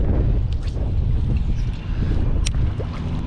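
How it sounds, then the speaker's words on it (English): Strong wind buffets the microphone outdoors on a windy fishing day by muddy water, a loud continuous low rumble and roar with brief faint clicks over it. "The wind is so bad right now"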